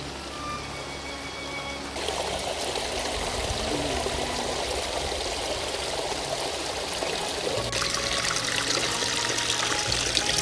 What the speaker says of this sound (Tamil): சிவலிங்கத்தை மேலே பார்த்திங்கன்னா வந்து தண்ணி ஊற்றும்